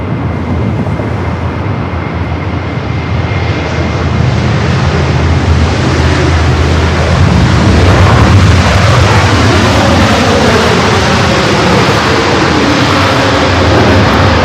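A Boeing Dreamliner airliner lands at LAX airport, its engine roar and rushing noise loud and steady throughout, swelling slightly midway with no voices over it.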